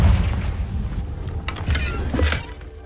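A Confringo blasting spell goes off in Hogwarts Legacy, a deep rumbling boom with a couple of sharp bursts layered over a steady low game backdrop, fairly loud and close.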